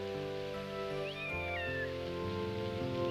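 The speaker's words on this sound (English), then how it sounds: "What? A kitten?" A sick kitten giving a thin, drawn-out high meow, faint and fairly brief, heard under sustained orchestral music in an indoor drama scene.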